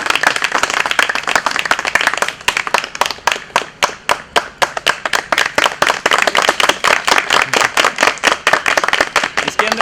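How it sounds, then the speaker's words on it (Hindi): Loud, close rhythmic clapping from an audience at an annual day celebration, the hands striking in a fast, even beat that keeps going steadily from start to finish. "तालियां।"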